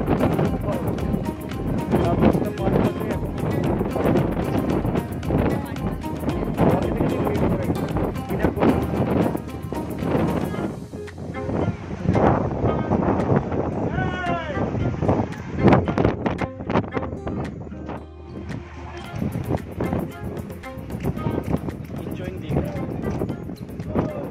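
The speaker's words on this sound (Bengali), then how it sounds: "এত হাওয়া, এত পরিমাণে হাওয়া" Strong gusty wind batters the microphone on the seafront at New Digha, a loud continuous roar and buffeting throughout while people talk over it.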